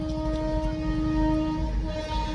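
A train rumbles steadily past a level crossing near Takalibhan, a low continuous roar with a sustained tonal hum, no voices.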